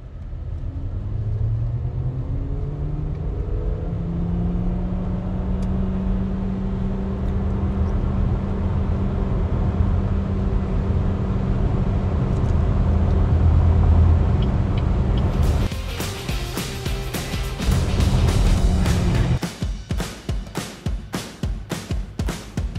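A 2024 BYD Sealion 6 DM-i hybrid SUV drives in sport mode: a steady low engine and road drone with rising tones, followed near the end by rapid, sharp clicking and thumping.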